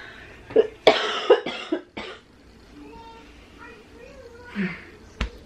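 A few coughs near the start, close by, followed by quieter background sounds and a soft thump near the end.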